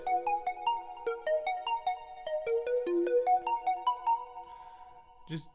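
A short plucked synth melody in a beat plays with a swirling, sweeping Fruity Flangus flanger effect in stereo, notes stepping up and down before a brief noisy hit at the end.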